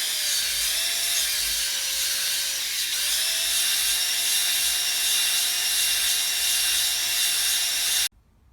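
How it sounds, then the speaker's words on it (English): A hone works the cylinder barrel of a BSA Fury SS (E35SS) motorcycle engine, giving a steady, loud grinding whir with a faint shifting tone that runs unbroken for about eight seconds before stopping abruptly. "So we've given that a light hone thus far"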